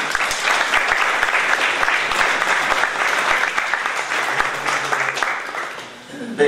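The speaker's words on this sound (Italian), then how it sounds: "vorrei un applauso per la sua iniziativa" Loud, dense audience applause at a town gathering in Rivello, Italy, steady clapping throughout that thins out near the end.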